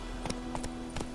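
Hooves clop in quick, light beats as a horse gallops in The Witcher 3, three soft pairs of impacts over a faint constant game hum.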